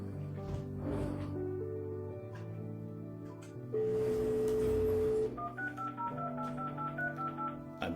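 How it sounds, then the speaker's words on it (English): A landline telephone connected through a cell phone adapter sounds a run of dialing tones, steady held beeps shifting in pitch over a low background hum, fairly close and clear with no talk. "I'm calling from the other phone"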